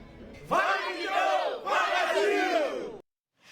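Family and friends cheer for the Brazilian national team during the World Cup, loud excited shouting and whooping in two long surges, then an abrupt cut to silence.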